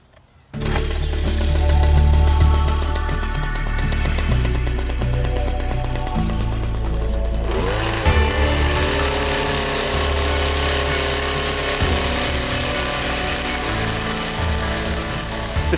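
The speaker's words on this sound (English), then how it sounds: "We'll be using these pick tines first to break up the soil." A STIHL multi-system fitted with pick tines breaks up garden soil. After a short start, a loud, continuous engine whine runs throughout, and its tone shifts partway as the tines load and bite into the ground.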